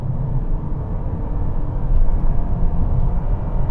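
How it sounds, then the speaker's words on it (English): Toyota Camry with a CVT gearbox accelerating, its engine holding a steady, loud droning hum at constant revs with low rumble throughout. "you get that droning noise from the engine because of the way the CVT gearbox keeps the revs at a constant rate"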